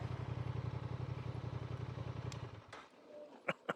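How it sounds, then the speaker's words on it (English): A Honda Transalp motorcycle idles nearby with a steady low, rhythmic putter, then the engine cuts off, followed by a few sharp clicks and knocks in the quiet. "Just turn the bike off while I'm rolling, why not?"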